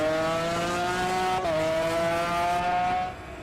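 A race car engine in the sim racing game Automobilista 2 holds a loud, steady high-pitched whine, dips briefly mid-way, then climbs again before fading at the end.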